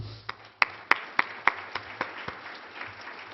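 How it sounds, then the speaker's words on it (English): Audience applause at a forum opening, a sparse scattering of claps from a small crowd, several sharp distinct hand claps standing out near the microphone before fading into lighter clapping. "Let's start with a big round of applause to everybody here today"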